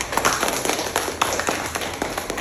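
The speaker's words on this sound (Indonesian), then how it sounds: "Kita beri tepuk tangan dulu ya." Classroom applause from a group of students, a ragged patter of hand claps and taps filling the room, fairly close and steady for a couple of seconds with no talk over it.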